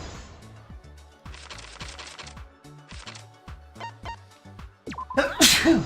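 A single sharp sneeze bursts out near the end, after a stretch of quiet background music with steady low notes.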